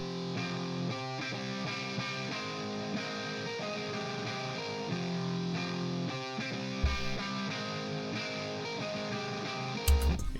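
A bright, distorted shoegaze electric guitar riff, boosted up an octave, plays steadily in a high register, sustained chords ringing over a full mix without pauses.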